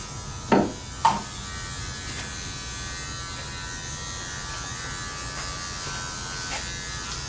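Electric hair clipper buzzing steadily while fading hair from the bottom up at a barbershop, with a couple of brief louder knocks early on, then a constant close hum.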